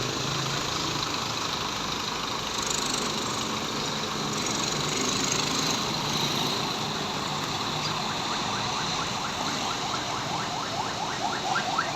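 An ambulance siren wails on a congested road toward Aceh early in the morning, fairly distant and partly buried under steady idling engines and traffic rumble, its warbling growing clearer near the end.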